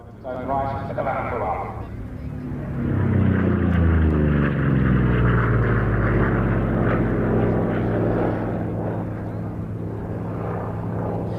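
A Chance-Vought Corsair piston-engine fighter in New Zealand Navy livery passes at the Duxford airshow, its propeller drone rising to a loud sweeping roar with a pitch drop as it flies by, then fading; a voice talks over the start.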